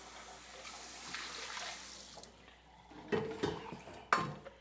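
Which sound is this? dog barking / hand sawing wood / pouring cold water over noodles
pouring cold water over noodles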